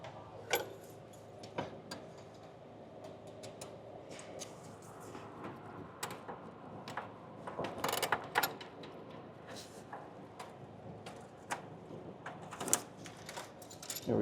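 A ratchet cinches down a bolt on the engine of a Ford F450 with a 6.7 engine, sharp metallic clicks and ticks in irregular bursts, close-up over a faint background.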